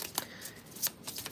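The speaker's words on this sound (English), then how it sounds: "I should not be shuffling because these cards are going to keep falling" Tarot cards being shuffled by hand produce a few quick, crisp riffling snaps and flutters close by, with no talking.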